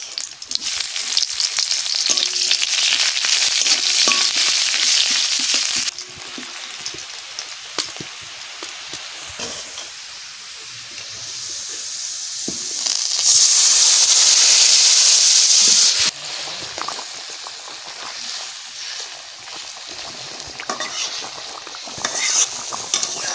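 Onion frying in mustard oil with cumin and bay leaf, a loud continuous sizzle and hiss with stirring scrapes; it surges louder midway, then settles back to a steady fry, with no voices.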